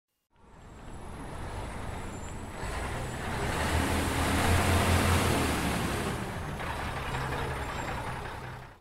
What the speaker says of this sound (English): A delivery truck transports many different things to people's homes and businesses.